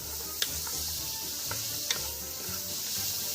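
Sofrito vegetables for a bolognese sizzle softly and steadily in a pot, with a few sharp clicks of a spoon stirring against the side.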